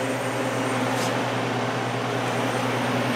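An air compressor feeding receiving tanks, a dryer and filters hums continuously and evenly at close range, a steady mechanical drone with no other sounds.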